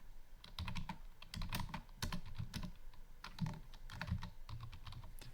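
Keys clatter on a computer keyboard in quick irregular bursts and pauses, close and moderately quiet, with no one talking.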